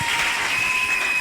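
A church congregation applauding, dense steady clapping filling the space for a moment, loud and continuous with no voices over it.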